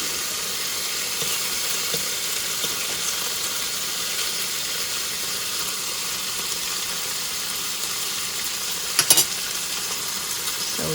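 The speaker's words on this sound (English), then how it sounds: "We are cooking the bacon right now." Bacon frying in olive oil in a pan gives a steady, close hiss and sizzle, with one brief sharp clatter near the end and no speaking.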